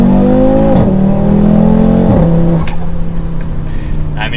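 An Audi RS3 8Y with all-wheel drive accelerates hard at full throttle, its loud engine note climbing steadily and dropping sharply at two quick upshifts before pulling on, heard from close inside the car.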